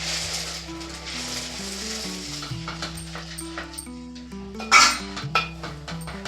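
Peanuts stirred into hot jaggery syrup in a pan, a soft continuous sizzle with scraping stirs and a sharp clatter near the end, under a faint background hum.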